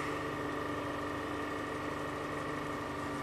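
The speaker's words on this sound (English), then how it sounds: "We'll raise the RPMs up a little bit." Honda Accord V6 engine with a misfire fault running at raised RPM, a steady humming drone with a constant tonal whine and no talk.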